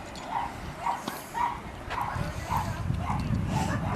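Dogs at a nearby dog park in a public recreation area bark in a steady series of yaps, roughly every half second, heard from a distance and fairly faint against an open outdoor background.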